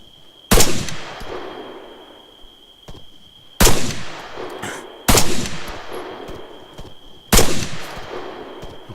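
Four loud, separate gunshots ring out at night in Arma 3, each a sharp crack trailing a long echoing decay, spaced a few seconds apart with a steady high tone beneath.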